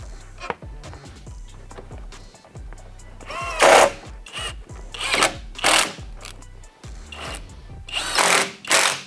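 Power tool driving T30 bolts back in while an aftermarket Mishimoto oil cooler is fitted to a BMW M5 F90, heard as several short, loud whirring bursts separated by quieter gaps, close up with no talk.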